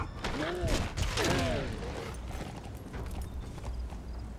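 Horse hooves clip-clop in the stealth video game Metal Gear Solid V: The Phantom Pain, a brisk clatter of hoofbeats at the start with a whinny-like sweep, fading under a rushing background din.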